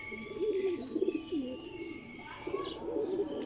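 Salara pigeons coo repeatedly in low, rolling phrases close by, with a few faint chirps above and no talking.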